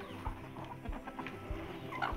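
Farm chickens cluck and murmur softly at a Brazilian country property, low repeated calls at moderate distance with faint background rustle and no speech.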